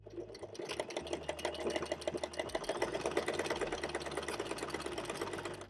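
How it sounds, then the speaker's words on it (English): A sewing machine stitches the short edges of a folded tote bag piece in a steady, rapid mechanical rattle, running continuously at close range with no talking over it. "you just want to sew the two short edges here and here"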